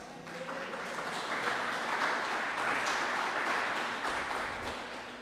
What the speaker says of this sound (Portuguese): Os irmãos podem se assentar dando palmas ao Senhor.